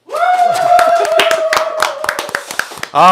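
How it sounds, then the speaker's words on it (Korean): A quick burst of many hands clapping in sharp, rapid claps over a sustained musical tone, ending with a voice at the close. "박수 한번 치고 갈까요?"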